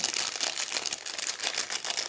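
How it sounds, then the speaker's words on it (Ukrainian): Vanilla sugar pours from a partly full packet while a homemade nut cake is being prepared, a steady close granular hiss and crinkle of paper lasting about two seconds with no voices. "десь ванільний цукор висипаю"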